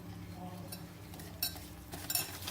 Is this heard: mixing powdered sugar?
yes